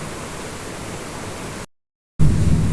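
Heavy rain falls outdoors as a dense, steady hiss that briefly cuts out to silence, then returns louder and closer.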